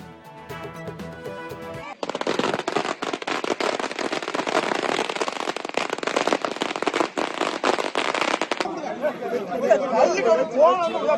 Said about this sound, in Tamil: திமுக தொண்டர்கள் பட்டாசு வெடித்து கொண்டாட்டம்.